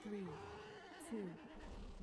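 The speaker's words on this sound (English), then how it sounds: "We're in our good Gilnean attire with my Gilnean horse." A Gilnean horse mount in World of Warcraft gives a couple of short neighs and whinnies over steady game background sound, with a voice talking alongside.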